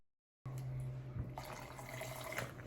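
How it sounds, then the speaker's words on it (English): Water poured into hair dye color, a steady liquid pouring and trickling sound with a constant low hum, starting after a short silence and continuing close and fairly quiet. "I just put water into the color to try to get all the color out."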